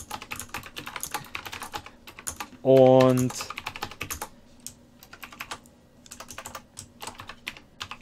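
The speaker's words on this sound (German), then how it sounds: "wenn man hier so tippt, auf Windows 98, live vor laufender Kamera" Typing on a Nanoxia Ncore Retro computer keyboard with small keys, a steady run of close, crisp key clicks that pauses briefly for a short tonal beep before the tapping resumes.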